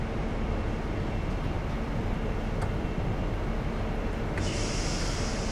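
A Class 43 high-speed train runs along the Great Western Main Line in a train simulator game, its engine and wheels a steady, dense drone that holds evenly throughout with no talking.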